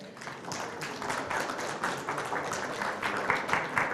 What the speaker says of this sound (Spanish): Les pido por favor un fuerte aplauso para darle la bienvenida